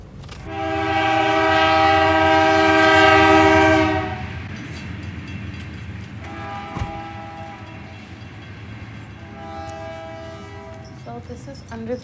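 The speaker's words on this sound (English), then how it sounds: "There's the train now." Passing train blasts a loud, sustained horn for several seconds, then rumbles along with a few shorter horn blows trailing off in the distance.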